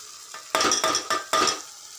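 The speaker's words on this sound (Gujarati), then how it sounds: "એને બરોબરની હલાવી નાખીશું અંદર" A frying vegetable dish in a pan is stirred after turmeric goes in, with three or four quick, loud scraping strokes over a soft sizzle, close up and with no talking.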